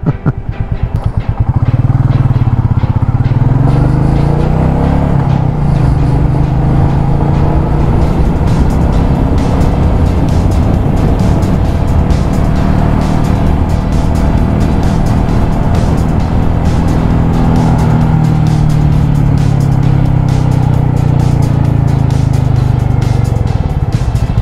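Royal Enfield Meteor 350 motorcycle riding through city traffic, its steady loud engine drone rising and falling with throttle and wind rush throughout, continuous with no break.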